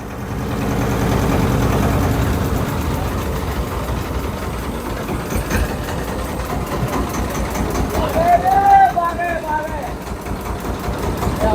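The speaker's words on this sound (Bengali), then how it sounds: "আমরা ট্রলারে আসছি" A trawler boat's engine chugs with a low, throbbing rumble while people talk over it on a waterway near guava orchards at a floating market.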